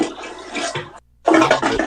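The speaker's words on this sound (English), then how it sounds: "I definitely just flushed the toilet" A toilet flushes close and loud in two bursts of gushing water separated by a brief near-silent gap, the second surge stronger.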